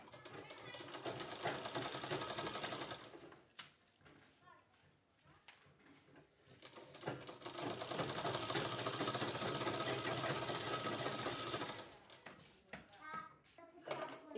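A sewing machine runs in long steady bursts while stitching two 1-inch fabric strips together for a sleeve design, whirring continuously with a short pause midway, under a voice talking.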